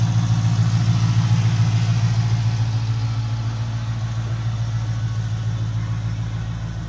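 A 2010 Dodge Challenger R/T with a 5.7 Hemi V8 idles steadily, a loud, even low rumble that holds for several seconds with no talk over it.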